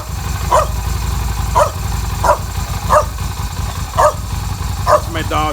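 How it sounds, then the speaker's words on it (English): An old dog barks at a motorcycle as it starts, giving six evenly spaced barks over a continuous engine rumble, with a higher whine at the end. "My dog, he freaks out when I start the bike."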